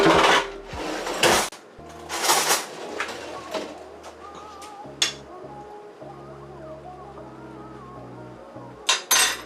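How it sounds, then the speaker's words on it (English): Kitchen clatter while fetching another spoon during chicken Alfredo cooking: sharp drawer and utensil knocks, a rattle of metal, then quieter shuffling and a couple of final clacks, close by with no talking. "Let me get another spoon and taste."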